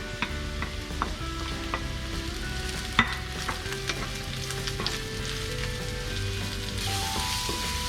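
Mushrooms for a veggie burger fry and sizzle in a pan, a dense crackling hiss with scattered pops and a couple of utensil taps, close and steady.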